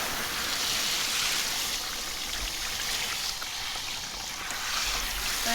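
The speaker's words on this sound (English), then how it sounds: "No lack of water pressure here." High-pressure water streaming steadily from a hose or tap while a tie-dye shirt is rinsed, a continuous hissing splash close by with no talk.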